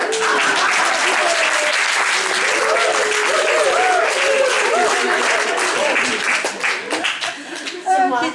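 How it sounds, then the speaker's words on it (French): An audience at a talk claps loudly and steadily for several seconds, and the applause thins out toward the end. "On m'applaudit, s'il vous plaît."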